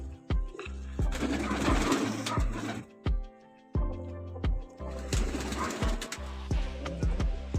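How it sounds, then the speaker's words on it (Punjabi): Pigeons of a Punjabi racing breed coo repeatedly in soft, throaty bursts, with brief pauses between calls, fairly close and steady throughout. "ਕਬੂਤਰ ਦੇਖ ਸਕਦੇ ਹੋ ਕਬੂਤਰ ਦਾ ਪੂਰਾ ਰੋਹ ਆ ਬਈ"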